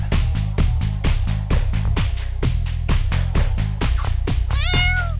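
A cat meows repeatedly in close, loud, insistent cries, about a dozen in quick succession with short gaps, ending in a higher drawn-out wail.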